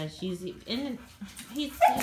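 Dogo Argentino dogs, a big male and a puppy, playing at close range with yips, whines and short barks in quick bursts, while a person talks over them.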